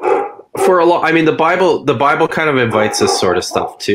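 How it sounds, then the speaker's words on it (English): A pet dog barks excitedly off in the background of a home room, its yips and barks tangled under continuous close conversational speech. "you can probably hear my dog barking like crazy in the background"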